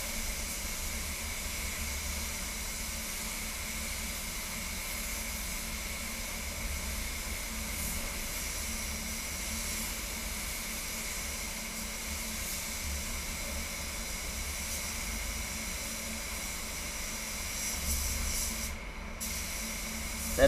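A paint spray gun hisses steadily as it lays clear coat onto a Mazda 3 bumper in titanium metallic, one continuous close airy spray with only small shifts in intensity and no talking.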